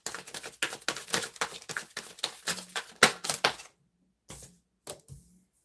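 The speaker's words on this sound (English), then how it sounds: "Let me shuffle again," Tarot cards being shuffled by hand, a run of crisp, rapid riffling slaps close up, then a pause and a few final taps as the deck settles, with no one talking.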